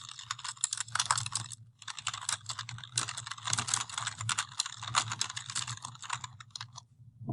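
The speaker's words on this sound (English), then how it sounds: "I'm going to type in some instructions" Fingers tap quickly on a computer keyboard, close and quiet, in uneven bursts of clicking keystrokes with brief pauses between them.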